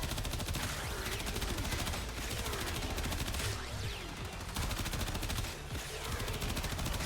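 A Warframe primary weapon switched to full-auto mode firing nonstop: loud, rapid, unbroken automatic shots for about seven seconds, with no pauses or speech.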